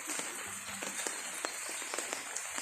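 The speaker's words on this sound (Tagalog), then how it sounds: "It's raining." Steady light rain falls outdoors on a small farm with goats and chickens on a morning that has been rainy since dawn, a soft, even patter with scattered sharper drops and no voices.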